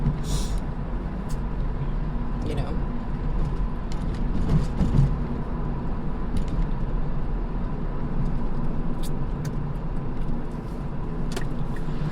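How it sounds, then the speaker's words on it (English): A car drives steadily along old back roads, its engine and road rumble forming a loud continuous drone from inside the cabin, with occasional small rattles and clicks. "I'm driving on some old roads I have not been on in a very long time"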